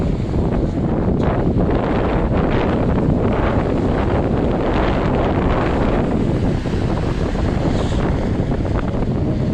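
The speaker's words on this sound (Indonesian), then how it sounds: "Ombaknya ini sendiri bergemuruh" Steady, loud roar of surf beside the B.J. Habibie floating mosque in Parepare, with heavy wind buffeting the microphone and washing, broadband water noise throughout, no distinct breaks.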